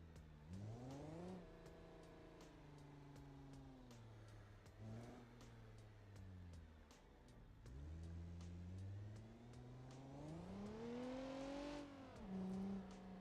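A car engine revs and shifts repeatedly, pitch climbing and falling through gear changes with a droning, racing-game quality, steady and prominent throughout.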